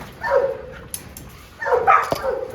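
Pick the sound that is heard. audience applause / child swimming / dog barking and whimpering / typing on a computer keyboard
dog barking and whimpering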